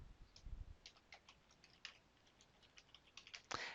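Quiet, close clicking of fingers typing on a computer keyboard, irregular keystrokes in short flurries ending with a slightly firmer tap, no voices.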